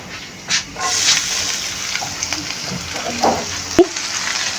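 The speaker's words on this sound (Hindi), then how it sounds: "लो टू मीडियम आंच पे हमने इसको थोड़ी देर के लिए फ्राई करना है" Chopped onion and garlic frying in a pan over low to medium heat, a soft continuous sizzle with light stirring and a sharp clink of utensil near the end, no talking.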